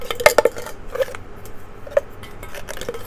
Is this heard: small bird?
no